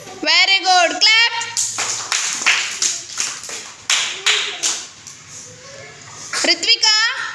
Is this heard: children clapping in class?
yes